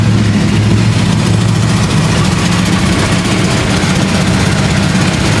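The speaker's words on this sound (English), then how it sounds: "Man, I really thought I was gonna be able to drive this motor around, but it is running so bad." A 52-year-old Jeep Wagoneer engine running rough, with a loud, steady, low rumble that drones on without a break.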